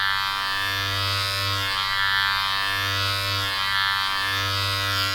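Wahl Color Pro electric hair clippers fitted with an ear taper guard comb hum steadily and close up while trimming hair around the right ear, the buzzing tone rising and easing slightly in a slow rhythm.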